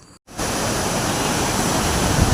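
Bikkanappalli waterfall in Krishnagiri, heard up close as a loud, steady roar of falling water that fills the clip after a short quiet gap at the start.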